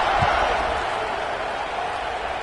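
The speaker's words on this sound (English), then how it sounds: "this crowd is buzzing after that last score" Stadium crowd at a college football game, Oregon against Fresno State, buzzing after a score: a dense, steady roar of many voices, loud and sustained, with no distinct applause peaks.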